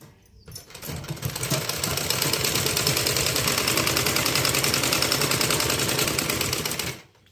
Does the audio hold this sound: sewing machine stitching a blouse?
yes